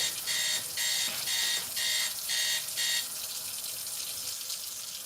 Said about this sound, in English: Oh, my phone's going off.